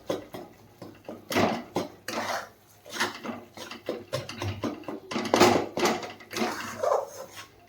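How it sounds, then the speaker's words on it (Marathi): Bananas mashed finely with a utensil in a pan of ghee-roasted semolina for a sweet shira offering, irregular close scraping, knocking and clinking of metal against the pan, with short pauses between strokes. "एकदम अशी ती केळी बारीक करूयात आपण व्यवस्थित ह्याच्याने."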